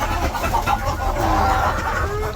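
Chickens on a village farm cluck in soft, repeated calls while eating their feed, a steady close chatter of several hens with no talk over it.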